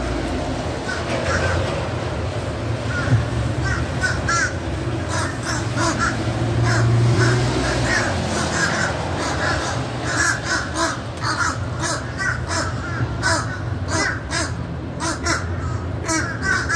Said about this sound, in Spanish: Me muestra aquí estos pajaritos comiendo pancito, comiendo de todo.